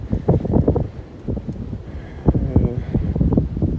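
Gusty wind buffets the microphone in uneven low rumbling bursts, loud and close, rising and falling over a few seconds, outdoors on black-earth farmland during autumn ploughing.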